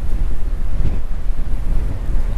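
Strong wind buffets a 13 ft Scamp travel trailer in March, a steady low rumbling roar of gusts and microphone buffeting that continues throughout with no speech.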